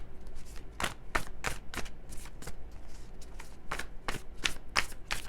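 Tarot cards being shuffled close up in a quiet room: a quick run of sharp riffling bursts, about a dozen in a row, alone and fairly soft.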